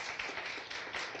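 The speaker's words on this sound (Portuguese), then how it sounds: "Uma salva de palmas para a irmã Rosa" Brief clapping for Sister Rosa in a church congregation, quiet and steady over about a second, with scattered hands rather than a full ovation.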